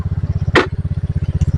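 A scooter engine idles and putters in a fast, even pulsing rhythm, close and steady, while the rider turns it on a rough red-dirt village road, with one brief louder rattle or bump partway through.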